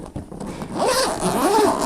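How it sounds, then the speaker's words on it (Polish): Quick double zip pull on a fishing bag with two zipper sliders, close and crisp, one short rising rasp followed by a second, alone with no voice. "Podwójne suwaki, co też jest bardzo ważne."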